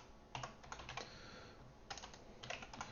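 Quiet typing on a computer keyboard during a programming session, with irregular clusters of key clicks separated by short pauses, close and alone with no talk.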